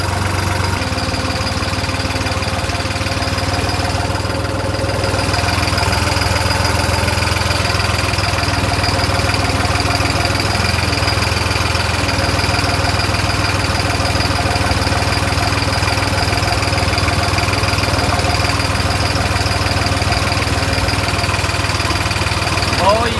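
A tractor engine runs at a steady, droning idle throughout, close and constant, with no pauses.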